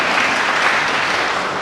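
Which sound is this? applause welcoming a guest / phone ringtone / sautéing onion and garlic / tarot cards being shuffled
applause welcoming a guest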